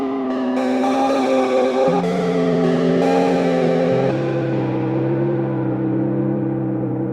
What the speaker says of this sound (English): we gotta enable the reverb and the chorus a little bit for this one